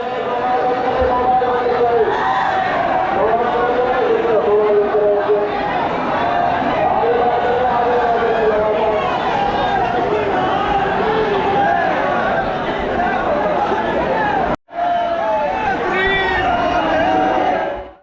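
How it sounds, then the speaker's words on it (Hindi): A huge crowd packs the streets at Holi in Mathura, a dense, continuous roar of voices with whoops and shouts, loud and unbroken apart from a brief cut near the end. "इतनी ज़्यादा भीड़ होती है कि लोग गेट तक खोल के एकदम से बहुत लाखों की संख्या में लोग आते हैं अंदर।"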